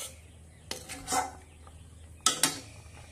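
Ghee and garam masala get stirred into a simmering egg-style korma gravy with a few light spoon clinks against a pot, quiet, with two sharper scrapes near the end.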